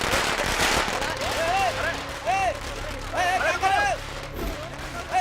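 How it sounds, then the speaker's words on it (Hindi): Firecrackers set off in a movie scene crackle in sharp bursts, mostly at the start, under loud, excited shouting voices. "पटाखे फोड़ो।"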